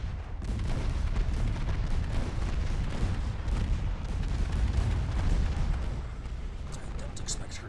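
Naval gunfire among battleships and a battle cruiser in Ultimate Admiral Dreadnoughts, the German ship Dessau under heavy fire: a dense, continuous rumble of artillery thuds and booms, steady and moderately loud throughout with no pauses.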